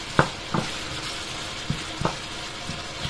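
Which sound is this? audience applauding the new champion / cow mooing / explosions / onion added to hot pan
onion added to hot pan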